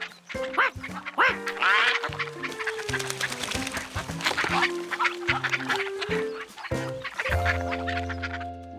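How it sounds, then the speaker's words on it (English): Cartoon ducks quack loudly and repeatedly, several calling over one another in a busy chorus with clucking fowl-like calls mixed in, set against a light musical score. "George had never had ducks swim all around him before."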